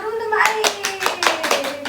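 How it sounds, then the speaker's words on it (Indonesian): Children clapping their hands in an elementary school classroom. Several loud, rhythmic group claps land at a steady pace, with a young voice audible over the start. "Tepuk tangan dulu untuk Mbak"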